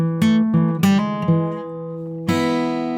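Acoustic guitar playing a slow blues riff, with plucked notes and a hammer-on, ringing on its own in a few separate phrases that decay, then a final struck chord left sustaining.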